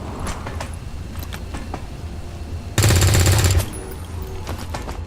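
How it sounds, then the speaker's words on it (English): Automatic gunfire from a soldier's rifle shooting at a trooper in the tactical video game XCOM, a loud sustained burst of rapid shots lasting under a second amid low background rumble and scattered clicks. "Blackwidow is going to open fire on the trooper."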